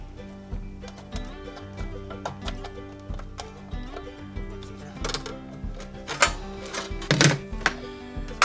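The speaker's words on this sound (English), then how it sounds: "I'm going to get my shears now and try and cut this out" Hand shears snipping through sheet metal to cut out a floor drain stopper, a close, quiet series of crisp clicks and crunches, irregular and growing louder toward the end, with no talk.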